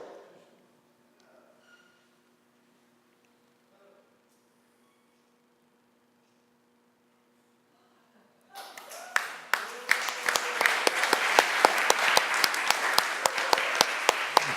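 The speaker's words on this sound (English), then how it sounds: "judging from that lukewarm round of applause" Lukewarm applause from a sideshow audience after a sword swallowing act at a Brooklyn circus show, starting abruptly after a long near-silent stretch, then a steady patter of many hands with sharp individual claps, fairly loud and close.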